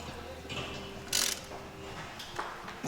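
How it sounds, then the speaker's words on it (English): A ratchet turns the bolt of a gear puller on the P-pump gear of a diesel engine, making one short, sharp burst of clicks over a steady background hum and a later softer click. "It's all tight, so now we just have to keep tightening this bolt and it's gonna pull it off."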